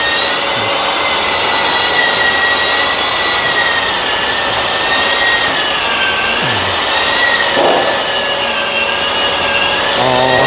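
A power sander with 150-grit sandpaper works a surface in a steady, loud, droning whir with a continuous rasping hiss, its pitch wavering slightly as it moves.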